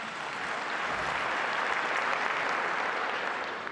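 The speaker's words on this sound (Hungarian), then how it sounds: "A pápa humorát tapssal díjazták a zarándokok." Crowd of pilgrims applauding the Pope's humour, a dense, steady burst of clapping from many hands that holds evenly loud throughout with no voices on top.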